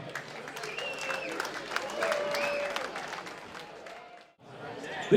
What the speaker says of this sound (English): Round of applause for Angelina Rosari.